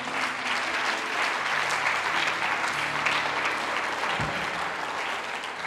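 A church congregation claps and cheers in praise, giving sustained, dense applause that fills the room at steady loudness for several seconds, with a low voice faintly beneath.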